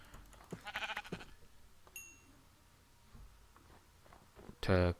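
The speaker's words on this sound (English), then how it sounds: "These sheep are giving out food as well." Sheep in the Minecraft modpack FTB Unleashed bleat twice, a short nasal bleat early on and a louder, closer one at the end, with quiet game ambience between.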